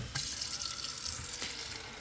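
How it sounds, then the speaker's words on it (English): Water runs steadily into the tank of a Water First countertop RO system, a continuous bright hiss of pouring with a slight change in tone as it fills, close and alone. "We'll fill this up with water."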